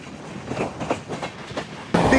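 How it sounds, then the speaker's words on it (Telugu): A train bound for Naharlagun passes close by, its wheels beating a rhythmic clickety-clack before a sudden louder rush of noise near the end. "ఇప్పుడు వెళ్ళింది కదా బండి, నాహర్ లగూన్ వెళ్ళే బండి."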